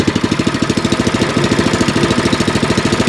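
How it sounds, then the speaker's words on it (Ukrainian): The petrol engine of a WEIMA WM7BL-400 wheeled mini dumper runs close by with a loud, rapid, even chugging rhythm, steady throughout. "Як ви чуєте, двигун вейма, як на всій техніці, як і окремо двигуни, працює ідеально."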